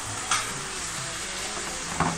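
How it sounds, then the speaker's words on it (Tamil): Tomatoes sautéing in a pan for a ragi vermicelli dish and being stirred: a steady close sizzle, with two brief scraping stir strokes cutting through. "தக்காளி வந்து நல்லா கூழு மாதிரி ஆகிற வரைக்கும் நல்லா தாளிச்சு விடுங்க."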